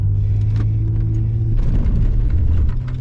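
An MG ZT 190 car engine accelerates with a loud, steady low rumble that rises slightly in pitch, heard from inside the moving car.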